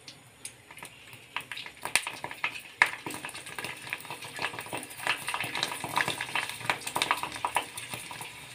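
Sabudana papad fries in very hot oil in a kadhai, a busy crackling sizzle with sharp pops and clinks from stirring that grow livelier as it goes on, close and fairly loud with no talking.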